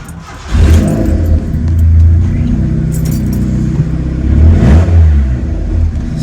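A car engine cranks and fires up after a Walbro fuel pump install, then settles into a loud, steady idle with slight revving swells; close and dominant throughout.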